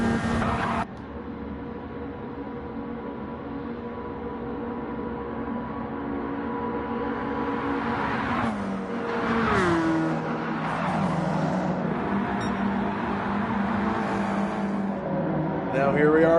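Race cars in a Gran Turismo 7 stock car event at Daytona, including a Robert Yates Ford, roar in a tightly packed field with steady engine drone and rising pitch sweeps, running under continuous race commentary.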